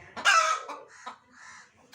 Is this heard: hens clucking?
yes